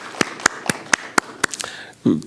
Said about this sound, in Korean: 저렇게 용기를 내서 대답했는데 우리 박수라도 한번 쳐줘요